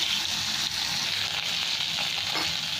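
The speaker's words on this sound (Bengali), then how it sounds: "কড়াইয়ে তেল দিয়েছি, তেলটা গরম হয়ে গেছে, মাছগুলো আমি ভেজে নিচ্ছি।" Turmeric-rubbed bata fish frying in hot oil in a wok gives a loud, steady, dense sizzle that runs unbroken throughout.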